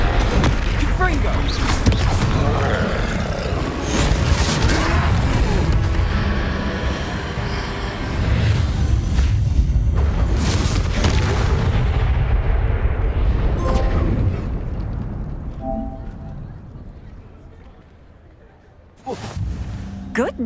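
Confringo fire spells burst in a troll fight in Hogwarts Legacy, loud rumbling booms and blasts rolling on for many seconds with battle noise, while characters shout over it before it fades.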